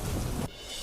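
Heavy rain pours over a village in Kheda, Gujarat, a dense, loud hiss that cuts off abruptly halfway through into quieter ambience, with no voices.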